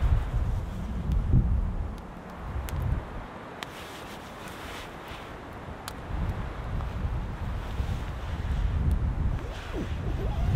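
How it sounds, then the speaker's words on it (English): Strong wind in a winter storm in the North Carolina mountains roaring and gusting steadily, with low buffeting rumble and a few faint clicks and rattles nearby. "It is super windy"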